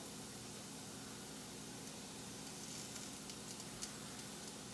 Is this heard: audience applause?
no